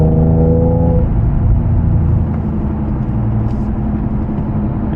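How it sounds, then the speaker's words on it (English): A tuned Infiniti G37S coupe with a six-speed manual cruises on freshly paved road, its engine a steady low drone under a loud constant roar of tire and rim noise, with a brief pitch shift early on. "my rims been sounding real loud lately"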